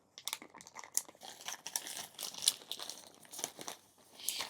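Plastic packaging around a leather cosplay jacket is torn and crumpled open by hand, a close, irregular run of crinkles and rips with no talking.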